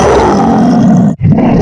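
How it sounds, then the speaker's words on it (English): A lion roaring, loud and close: one deep, sustained, rough roar, briefly broken by a short gap before a final rumble. "Lion."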